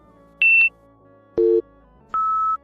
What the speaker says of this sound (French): Après les 3 bips, écoutez bien.